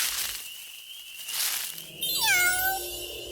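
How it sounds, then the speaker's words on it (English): A cat meows several times with rising and falling cries, fairly close and clear over a faint background hiss. "did you guys hear that? I hear a cat."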